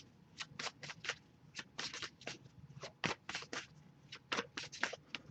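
Playing cards riffled in a rapid series of crisp, papery bursts, close and fairly quiet, with short pauses between shuffles.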